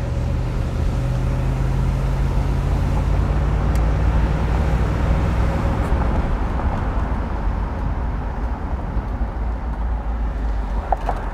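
A one-owner 1969 Chevrolet Corvette on a test drive, heard from inside as a continuous loud engine drone and road rumble with a steady low hum throughout, no talking.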